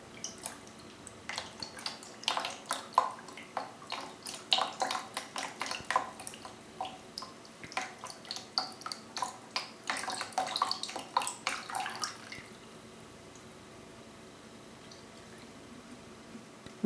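Coolant liquid pours and glugs out of a RaiJintek Triton radiator in rapid irregular splashes and drips for about twelve seconds, then stops, leaving quiet background.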